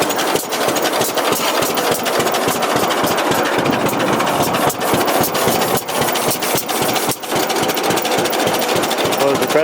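A John Deere tractor engine runs close and loud, with a rapid, steady mechanical chugging that continues throughout.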